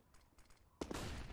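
A few faint shots pop in the background, then a sudden loud burst of rapid gunfire erupts up close and continues, in a Counter-Strike: Global Offensive match.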